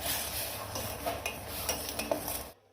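Jaggery lumps in water being stirred in a pan, with quick scraping and clinking utensil strokes against the metal over a soft background hiss, ending abruptly.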